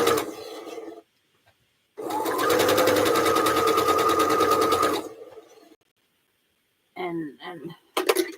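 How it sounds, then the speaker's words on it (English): Sewing machine stitching quilt blocks for a king-size quilt, a steady loud whirring run of about three seconds, preceded and followed by short bursts of talk and a brief pause. "I lay them across and start sewing"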